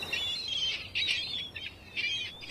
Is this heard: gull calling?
yes